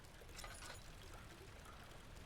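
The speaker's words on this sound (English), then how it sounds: "Pipe is loose and leaking water." Water leaks from a loose pipe in a video game as a faint, continuous pouring trickle, soft and steady with no one talking.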